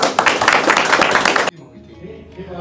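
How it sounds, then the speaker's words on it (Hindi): A group of people claps together at a Mahaparinirvana Day gathering, a dense burst of applause lasting a second and a half before cutting off to quiet room noise. "ताली बजा दो भाई सब लोग"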